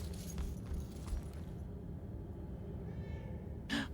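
A cat meows once, short and clear, near the end of a low, steady ambient rumble in the video game Murdered: Soul Suspect.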